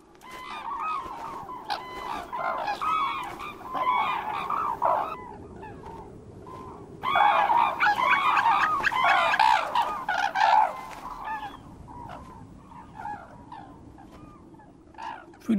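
The world's largest cranes call in loud, harsh, honking bursts, two dense bouts of overlapping cries with scattered single calls between and after.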